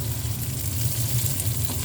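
Pickled mustard greens and glass noodles stir-fry in a pan, giving a steady soft sizzle with a low continuous hum underneath throughout.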